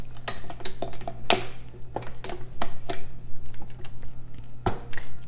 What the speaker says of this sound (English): I'll go ahead and get my dough hook attached